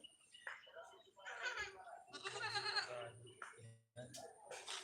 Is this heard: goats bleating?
yes